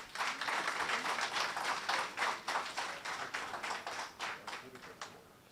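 Steady audience clapping at an entrepreneurship grants ceremony, dense at first and then thinning into more distinct individual claps as it fades out.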